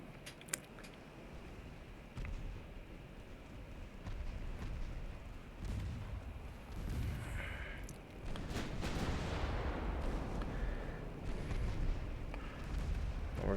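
Heavy naval gunfire from warships battling a Spanish fleet in the video game Ultimate Admiral Dreadnoughts, with a steady, dense rumble of cannon blasts and explosions that swells louder partway through and continues without pause.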